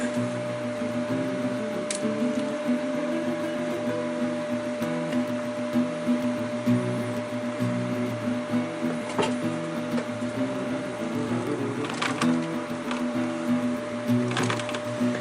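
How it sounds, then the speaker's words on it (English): A sewing machine stitches bias tape onto a rolled-top backpack, giving a steady motor hum with a constant tone that runs without a break, plus a few faint clicks, up close and with no speech. "now let's start sewing the bias tape"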